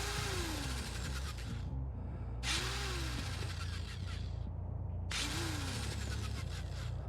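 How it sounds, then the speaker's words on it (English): A whirring, grinding drill weapon effect from Dead by Daylight repeats in three bursts, each starting with a sharp whine over a low mechanical rumble. "Here is how the drill sounds."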